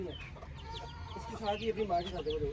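A hen scratching in soil clucks softly while her small chicks peep thinly around her. The calls are quiet and close, with a faint voice in the background.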